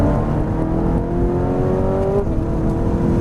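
A Ferrari 458 Italia accelerating out of a corner on a track, a loud, close engine whose rising whine climbs steadily under a constant roar.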